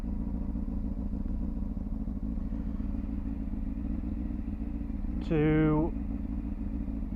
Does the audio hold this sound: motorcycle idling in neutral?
yes